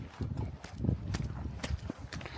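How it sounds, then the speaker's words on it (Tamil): Hooves of a ridden horse walking near Sonamarg in snowy Kashmir, a steady clip-clop of soft irregular hoof strikes, fairly faint, with outdoor background noise. "இந்த குதிரை இப்போதைக்கு நான் தான் ஓட்டிட்டு இருக்கேன்."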